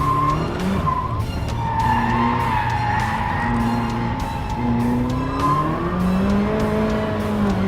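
A Ferrari F40 is driven hard, its turbocharged engine revving up and down while the tires squeal and skid repeatedly, loud and close throughout.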